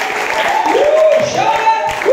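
A church congregation applauds loudly during a Taglish sermon, sustained crowd clapping under a preacher's raised, drawn-out voice.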